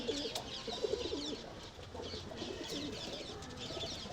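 Pigeons coo repeatedly in low, throaty rolling phrases, with other birds chirping faintly in the background against a steady outdoor hiss.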